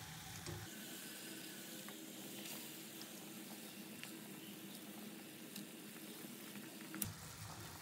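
Rohu fish curry gravy with capsicum simmers in a covered pan, giving a steady, faint bubbling sizzle throughout, with no talking.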